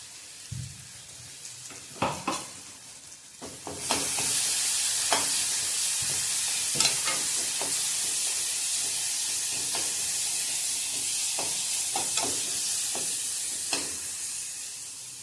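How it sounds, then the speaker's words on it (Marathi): Ground masala for a wedding-style brinjal and potato curry roasting in oil over a low flame, with mustard seeds and cumin. A steady loud sizzle starts after a few seconds, broken by sharp crackles and spoon scrapes. "आपण सर्व जिन्नसचा मसाला करून घेतला होता ते तेलात आधी भाजून घ्यायचं आहे।"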